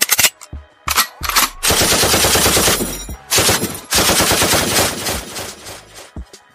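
Machine gun fire sound effect: several long, loud automatic bursts of rapid shots with brief gaps between them, harsh and close, with no voices.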